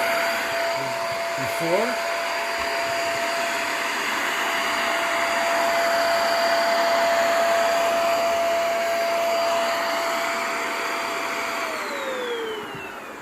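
Vacuum cleaner running on a rug, a loud steady motor whine with a constant high tone held for over ten seconds, then the pitch slides down as it powers off; a brief word is spoken near the start.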